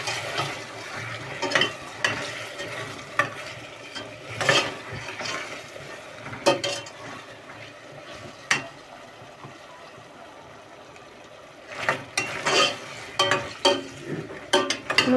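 Food fries in melted fat in a cooking pot while a spoon stirs and scrapes, giving a steady sizzle broken by irregular clinks and knocks of metal against the pot.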